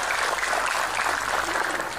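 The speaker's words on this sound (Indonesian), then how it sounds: "tepuk tangan dulu dong buat panitianya" A large crowd at an Islamic religious gathering (pengajian) in Sukorejo, Ponorogo, applauds the event organising committee, a dense, steady wash of many hands clapping at once, loud and continuous, with no talk over it.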